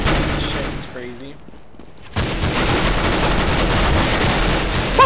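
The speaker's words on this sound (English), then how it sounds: "Oh, I just shot him on the team." Counter-Strike: Global Offensive gunfire erupts in loud, dense bursts, broken by a brief quieter gap and then resuming as sustained rapid shooting. Game noise fills the whole stretch.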